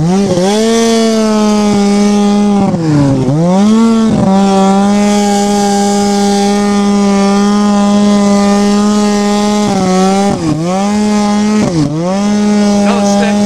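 A loud snowmobile engine drones steadily up close, its pitch dipping and rising a few times as the throttle eases and picks up again.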